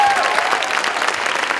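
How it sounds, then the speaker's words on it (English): Audience applause at a TEDx event in Bergen, a steady burst of clapping from a seated crowd, moderately loud and continuous throughout. "Round of applause for Roca."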